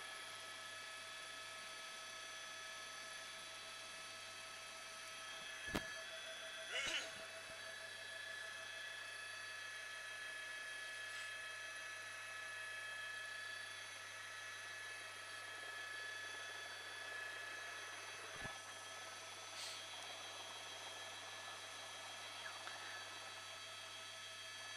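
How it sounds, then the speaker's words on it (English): A police helicopter hovers overhead during a night car chase, a faint steady turbine whine with tonal hum droning for nearly half a minute, marked by a couple of brief clicks. "that helicopter is still applying pressure even with the night sun off."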